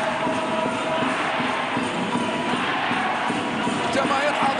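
A large crowd of Thai and Japanese fans roaring at an indoor futsal championship final, a dense continuous wash of cheering and noise filling the arena.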